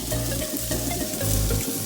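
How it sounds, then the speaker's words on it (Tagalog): Pre-cooked sliced tofu sizzles in a non-stick pan at a backyard cooking setup, a dense, steady frying hiss with a low hum beneath it, close and continuous. "ano natin tong tokwa na hiniwa. Pre-cook na to eh. Iinit lang natin sa non-stick"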